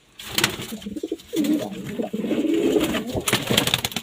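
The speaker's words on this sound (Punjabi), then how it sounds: "ਆ ਬੈਠੀ ਹੈ ਕਾਲੀ ਕਬੂਤਰੀ" Pigeons coo close by in a loft in soft, repeated throaty rolls that overlap one another, with a steady low murmur of birds throughout.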